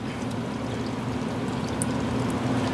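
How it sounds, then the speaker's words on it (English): Aquarium plant rinsed in water, giving a steady close swishing and pouring wash that lasts the whole short stretch, with a few faint splashy ticks. "I'm going to rinse it off a little bit."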